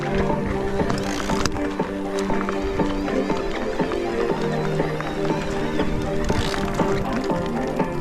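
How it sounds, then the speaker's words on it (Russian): Horse hooves clip-clop on a road in Crimea in a steady, fairly close rhythm, mixed with rattling and wind noise from a moving ride. "Ох и лошадки"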